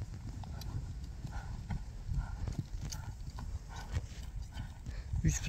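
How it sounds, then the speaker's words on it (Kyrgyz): A horse is led back and forth at a walk while being shown for sale, its hooves clip-clopping in a steady, fairly close rhythm over a low background rumble, with no talking. "Биринчи атты бир көрөлү, достор. Ары бери бастырсын."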